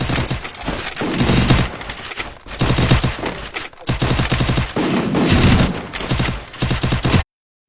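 In the Free Fire video game, a UMP fires in dense, rapid bursts of loud gunshots with short gaps between volleys, then cuts off abruptly.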